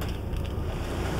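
Underwater recording of water with the boat's own engine and distant ships: a steady, dense low rumble under a constant wash of hiss that runs unbroken throughout, with no voices.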